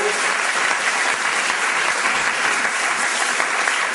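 A church congregation applauds at a temple dedication service, a dense, loud, sustained wash of clapping that stays steady throughout.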